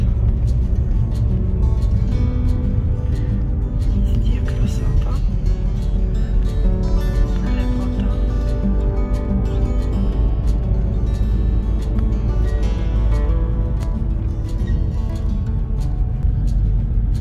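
A car engine runs and sets the car vibrating during a Norwegian Christmas outing, a constant deep drone and rattle throughout with a voice heard over it.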